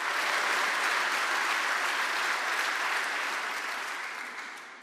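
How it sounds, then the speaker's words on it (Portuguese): A dense, sustained round of audience clapping fills a hall at a Portuguese prime minister's appointment ceremony, holding steady before gradually fading toward the end. "Um aplauso, uma frase, um aplauso."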